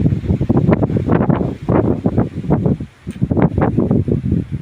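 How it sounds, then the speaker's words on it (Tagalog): Strong wind buffets the microphone in loud, uneven gusts that rise and fall continuously, briefly easing before roaring back. "Kusog kayo hangin."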